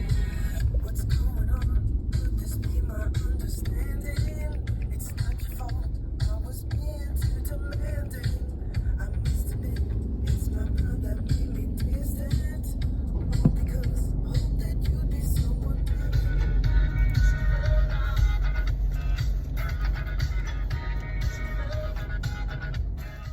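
Car cruising through town at night around 2 a.m., a steady low engine and road rumble filling the whole stretch with faint higher noise drifting above it.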